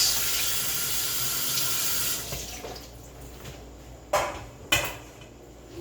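A kitchen tap runs steadily at full flow for a couple of seconds while dishes are rinsed, then the water cuts back and two sharp clatters of plates knock against the sink near the end.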